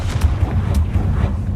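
A Confringo fire spell explodes in Hogwarts Legacy, a loud, deep rumbling blast with a low boom and crackling bursts that fills the short moment close up.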